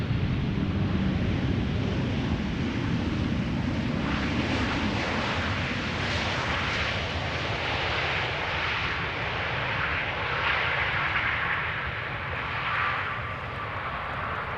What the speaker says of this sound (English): KLM 737-800 with an E2 Embraer 195 behind it.